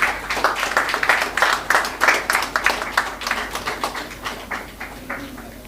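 An audience at an industry-academia launch event claps, with a sparse, distinct rhythm of individual hand claps that carries on steadily and gradually softens.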